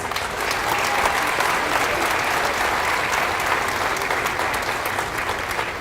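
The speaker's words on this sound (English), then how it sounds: "Let's go ahead and give everyone a round of applause" Audience at a Native American student recognition ceremony giving a round of applause, a sustained, even crowd of clapping hands that holds steady throughout.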